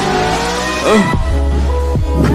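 A vehicle passing close on a road, loud engine rumble with a rising then falling pitch, followed by lower rumbling traffic noise and another short surge.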